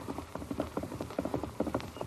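A Palomino horse's hooves clip-clop in a quick, uneven rhythm, fairly faint and growing closer, with no voices over the steps.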